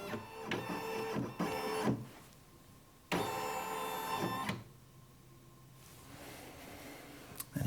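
A Brother Innovis embroidery machine fitted with an upgrade kit drives its hoop frame through a scan, giving bursts of close mechanical motor whirring and buzzing separated by quieter stretches, with no talking.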